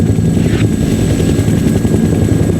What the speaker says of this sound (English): Helicopters have been dispatched to transport you to your next objective.